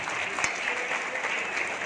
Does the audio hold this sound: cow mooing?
no